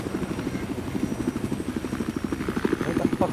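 A helicopter in Battlefield 4 thrums with a fast, steady rotor chop close by, while someone talks over it.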